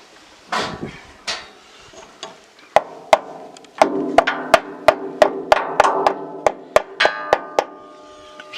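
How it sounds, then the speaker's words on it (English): Metal hammer blows driving a bullwheel liner into place, a sharp ringing strike first, then a steady run of about a dozen evenly spaced clanging hits, close and loud, with some scraping and clunking of parts between. "Hammer into place."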